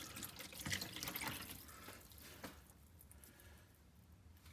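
Photo developer liquid is poured into a tray in a darkroom, a faint, soft splashing trickle that tapers off after a couple of seconds.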